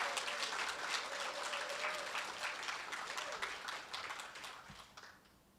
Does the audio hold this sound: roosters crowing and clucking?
no